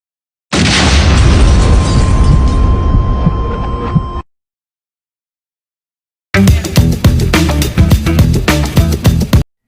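A loud explosion sound effect: a long, heavy booming blast that rumbles for several seconds, then silence, then a second rough, crackling burst of similar loudness.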